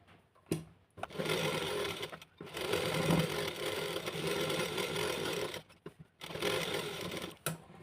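Sewing machine stitching around the edge of a lined blouse, running in several long steady bursts separated by brief pauses, close and clear with no talking.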